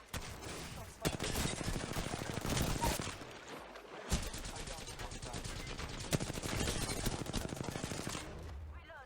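Rapid automatic gunfire in the Apex Legends video game, long loud bursts of close shots broken by brief pauses, with dense rattling impacts throughout.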